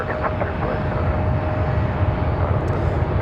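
A Frontier airliner bound for Fort Lauderdale roars down the runway at Raleigh-Durham International on a windy day, its jet engines producing a loud, steady broadband rumble that stays close and constant throughout.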